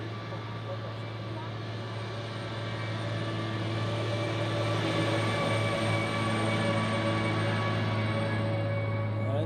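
An airliner climbs out after departure at foggy Zurich Airport, a broad steady jet roar with a low hum that swells gradually and holds loud at a distance, with talk over it.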